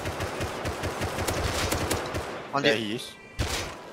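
Automatic gunfire in the game Rust during PvP, a fast continuous rattle of shots up close, followed by a short pause and another sharp shot, with a voice speaking briefly over it.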